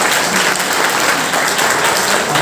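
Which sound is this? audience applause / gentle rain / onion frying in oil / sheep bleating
audience applause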